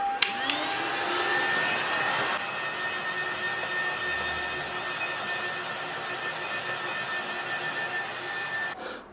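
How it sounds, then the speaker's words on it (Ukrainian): A Karcher VC Series 4 vacuum cleaner runs steadily up close, a loud whooshing motor drone with a high whine that holds throughout before cutting out at the end. "Зараз запилисосимо."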